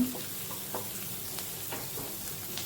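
Onions frying in a half-covered pan give a steady low sizzle, close and moderately loud, with faint stirring scrapes now and then and no voices.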